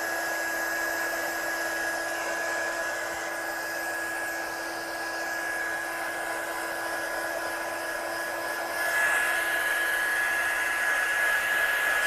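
A hair dryer blows steadily on wet ink blended on a stencil, a continuous whining hum running unbroken for the full stretch and growing slightly louder near the end.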